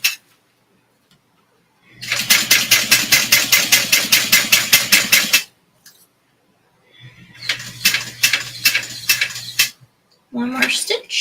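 A sewing machine stitching a clear wallet, sounding as two bursts of rapid, even mechanical clatter, close and loud, with a short sound at the end.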